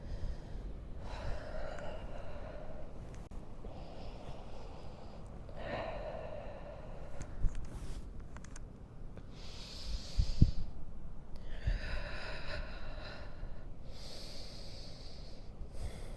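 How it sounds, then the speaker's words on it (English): Slow, deep breathing in and out during a yin yoga stretch, several long audible inhales and exhales at a relaxed pace, close and soft over a faint background hiss. "so we can breathe in and breathe out"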